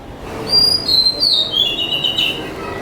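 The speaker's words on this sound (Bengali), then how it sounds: "মানে বসে যদি পাখির ডাকও শোনা হয় না মন ফ্রেশ হয়ে যায় এত সুন্দর ডাক" A single bird calls near a home garden, a clear loud whistled phrase repeated with rising and falling notes, heard alone.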